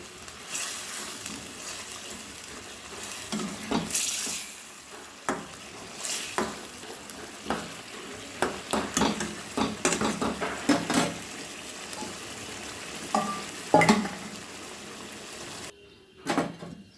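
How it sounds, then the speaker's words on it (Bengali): Paneer pieces and spice mix are stirred into a bubbling gravy in a pan, giving an intermittent low sizzle with irregular scrapes and knocks of a spoon that fade into near silence at the end. "গ্রেভির সঙ্গে খুব ভালোভাবে মশলাটা আমি মিশিয়ে দেব।"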